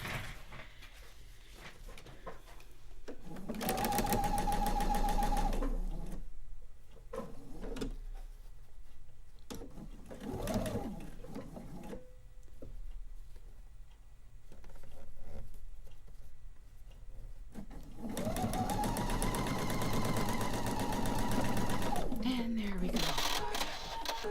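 Short bursts of a domestic sewing machine join a quilt cornerstone to sashing, with several close runs separated by quieter gaps of handling and a voice talking.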